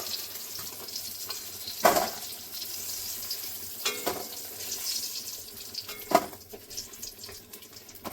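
Eggplant pieces frying in oil in a pan, a quiet, steady sizzle with a few sharper crackles and scraping stirs spread through.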